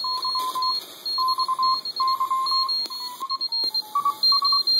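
Morse code tones from a Ramsey HR20 CW/SSB receiver kit: steady beeping dots and dashes in an uneven keyed rhythm, fairly loud over a faint hiss, the pitch dipping slightly near the end.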